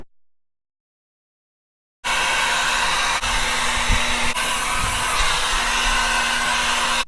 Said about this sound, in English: After I'm done with the hair dryer